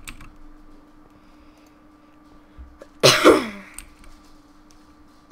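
A single sharp cough bursts out close to the microphone, a brief harsh rasp against a quiet room with a faint steady hum and occasional keyboard clicks.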